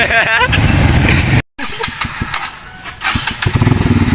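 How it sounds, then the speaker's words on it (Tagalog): A voice speaks briefly, then a motorcycle engine sputters to life and settles into a loud, uneven putter up close. "so magdadrive muna ako ng motor ko"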